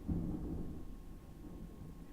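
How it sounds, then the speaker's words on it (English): Steady rain with a low rumble of thunder outside, a continuous dense wash that stays fairly constant and moderately loud throughout, with no talking. "Maybe it's raining here, so that may be the problem."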